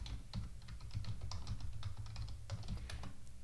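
Rapid, uneven clicking of a computer keyboard as a password is typed during a phpMyAdmin install on an Apache server, close and fairly quiet, with no voices.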